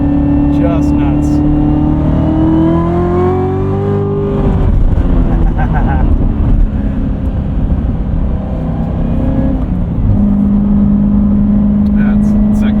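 A 2019 Chevrolet Corvette Z06 with a seven-speed manual pulls at full throttle in second gear, its engine rising loudly and steadily from inside the cabin before easing off, with people talking over it.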